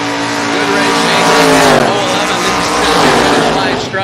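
A Chevrolet S10 race car roars under hard acceleration at a Friday fall brawl race, its engine loud and close and rising in pitch, with a race announcer talking over it throughout.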